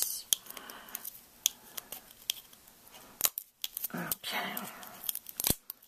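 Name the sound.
tearing open a new package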